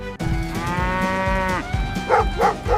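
A cow lets out a long, loud, close moo with a rich harmonic tone, followed by several shorter animal calls that may be dogs barking, heard alone without speech.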